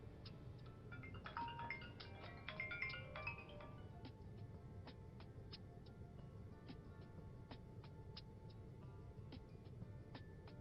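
A phone ringtone in a Nigerian drama scene dubbed in French rings unanswered: a faint electronic melody plays for a few seconds, followed by sparse, soft ticking tones over a quiet room hush.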